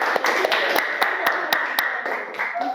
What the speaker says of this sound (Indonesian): Silakan tepuk tangan dulu untuk kelompok 3 ya.